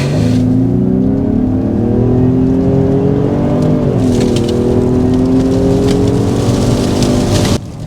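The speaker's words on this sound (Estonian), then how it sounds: "Teen sulle ühe kuival asfaldil kiirendusega." A 2021 Ford Explorer Platinum 336 kW plug-in hybrid accelerates hard on dry asphalt. The engine note climbs steadily through a shift into a strong, loud, rising drone, heard from inside the car.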